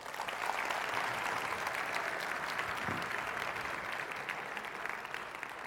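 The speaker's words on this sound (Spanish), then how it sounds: "Dale un aplauso" A crowd at a summer church camp gathering applauds steadily, a dense, even wash of clapping that holds for several seconds without building or fading, heard from within the audience.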